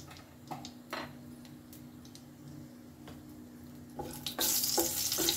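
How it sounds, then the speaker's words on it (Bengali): Whole spices (bay leaf, cardamom, cloves, cinnamon and black cardamom) drop into hot oil for yakhni pulao, a few light taps and rustles followed by a loud, close sizzle that swells and holds. "গোটা মশলা দিচ্ছি তেজপাতা, এলাচ, লবঙ্গ, দালচিনি, বড় এলাচ।"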